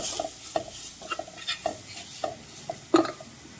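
Spice powders with coriander powder being sautéed in a pan, a soft sizzle beneath a series of distinct spatula scrapes and taps at irregular intervals, ending with a sharper knock against the pan.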